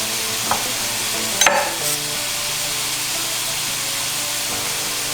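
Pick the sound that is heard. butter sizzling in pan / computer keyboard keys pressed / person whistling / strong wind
butter sizzling in pan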